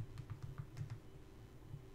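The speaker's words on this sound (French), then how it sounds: "donc je tape sur le clavier directement" Quiet clicking of fingers typing on the physical keyboard of a BlackBerry Passport phone, a quick run of soft taps that then fades, over faint steady room hum.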